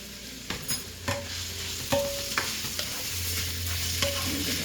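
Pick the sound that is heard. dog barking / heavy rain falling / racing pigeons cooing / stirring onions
stirring onions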